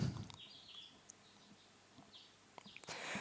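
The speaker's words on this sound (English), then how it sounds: "I awaken to the sound of twittering birds." Twittering birds in the Atri -My Dear Moments- video game, faint scattered high chirps over a quiet background, with a soft thump at the start.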